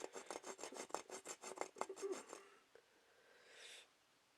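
A small saw from an Ozark Trail camping tool set cuts into wood with about a dozen quick, rasping back-and-forth strokes, close and fairly loud, then stops, leaving a faint rustle and a soft breath.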